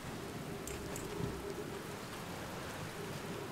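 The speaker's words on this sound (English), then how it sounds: "It's kind of rainy, kind of cozy." Rain falls steadily in the video game Outer Wilds, a dense, even hiss of drops with a faint low rumble beneath, continuous and moderately quiet with no talk.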